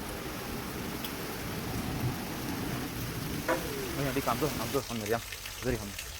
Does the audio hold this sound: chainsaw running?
no